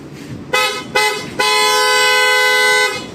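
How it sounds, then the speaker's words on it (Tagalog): A PIAA Auto Style car horn fitted to a Suzuki Jimny, sounding loud and close: two short honks, then one long sustained blast of about two seconds, with a bright harmonic tone. "try natin mga bossing ang sound check ng ating PIAA"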